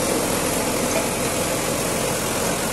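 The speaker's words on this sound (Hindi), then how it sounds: "ये देखिए रोटावेटर चल रहा है पहले के लो में 1500 RPM पे" A tractor-driven rotavator running at 1500 RPM in low gear while turning standing urad crop into a field, giving a loud, steady engine drone with dense mechanical rumble and no pauses.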